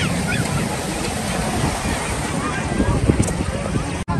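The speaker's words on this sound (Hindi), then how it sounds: "देखो यहाँ से एक झरना है ये बहता हुआ आ रहा है इधर से" Waterfall pours near a river beside a cremation ground at a temple site near Indore. It sounds as a loud, continuous broadband rush close by, steady throughout, with a short thump near the end.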